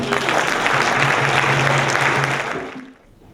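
A loud round of applause fills the hall at Essex County College during the King of Ghana's visit. The dense clapping carries under a faint hum, then tapers off quickly near the end.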